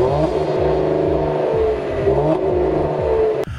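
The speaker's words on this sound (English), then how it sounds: "this V has a twin-turbo V6 and a loud exhaust." A 2020 Cadillac CT5-V with a twin-turbo V6 and loud exhaust revs repeatedly, its engine note rising and falling in a steady rhythm of throttle blips, loud and close, cutting off sharply near the end.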